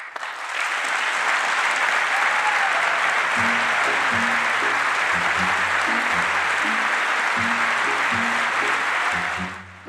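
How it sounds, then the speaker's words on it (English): Sustained applause from members of Congress in the chamber during a State of the Union address, a dense steady roar of many hands lasting the whole stretch, with a faint lower voice tone running underneath. "In a deeply divided Congress, applause or silence can send a powerful message."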